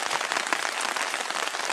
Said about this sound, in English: It's Paul walking down the road in the rain.